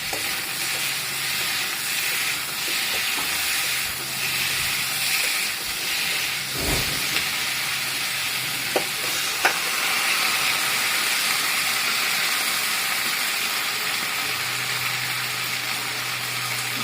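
Ginger, cumin, dried chilli and a little coriander sizzling in oil, a steady broad hiss that holds for the whole stretch with a few faint clicks and knocks, close and even, with no talking.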